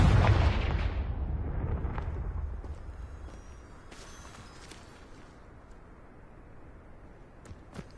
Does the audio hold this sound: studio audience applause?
no